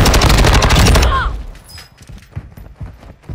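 Rapid automatic gunfire in Call of Duty: Modern Warfare II rattles loudly for about a second, then cuts off, leaving scattered softer thumps and a player's voice calling out.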